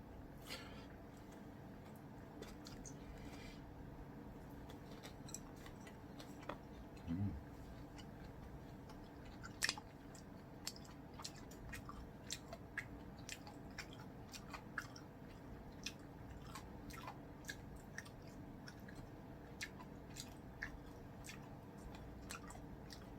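Soft, close chewing and small crunchy bites on gizzard shad with tough bones, steady faint mouth clicks and squishes going on for a long stretch without speech.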